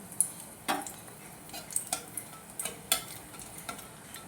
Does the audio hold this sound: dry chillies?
yes